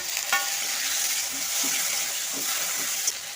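Chopped tomatoes go into a frying spice paste of onion and chilli, making a steady close sizzle with soft squelching stirs and a couple of light utensil clicks.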